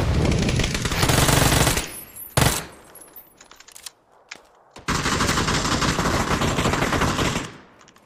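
Automatic weapons fire in a shooting video game, with long sustained bursts of rapid gunfire, a brief pause of scattered single shots, then another extended loud burst.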